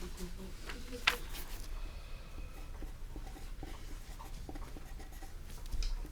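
A pen scratches on a piece of paper as statistics figures are written down, faint strokes mixed under a continuous voice talking.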